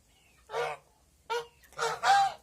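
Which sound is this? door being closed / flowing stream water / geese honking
geese honking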